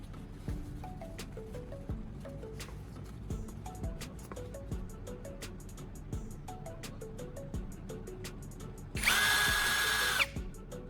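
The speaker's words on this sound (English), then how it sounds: "Now I'm inserting the carbon rod into my electric drill." An electric drill holding a carbon rod spins with a whirring, ticking motor hum, punctuated by clicks, then rises into a louder high-pitched whine near the end.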